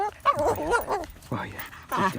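A dog on a hike gives several close, high whines and yelps in broken bursts, whimpering between them.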